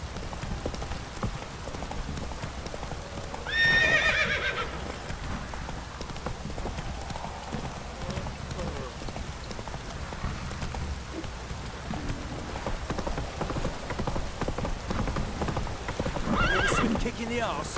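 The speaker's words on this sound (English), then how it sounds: "Whoa there, Roach." Roach the horse from The Witcher 3: Wild Hunt, heard in game as rapid hoofbeats over light rain, with a neigh near four seconds and another near the end. The sound is continuous and close, and faint talking may occur.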